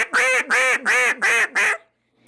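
Wooden duck call with a reed and wedge, blown in five short, evenly spaced raspy quacks close up, each about a third of a second long, followed by a moment of silence.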